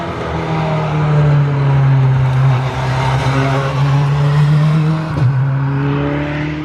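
A race car on a training circuit drones past with a loud, sustained engine tone that shifts pitch as it goes by, with a brief sharp gear change near the end.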